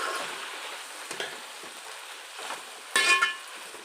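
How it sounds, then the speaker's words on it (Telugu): Tomatoes stirred into Bendakaya charu, an okra stew cooking in a pan, give a soft steady sizzle with a few scraping stirs and a brighter burst of frying near the end. "టమాటా వేసుకొని ఒకసారి కలుపుకోవాలి."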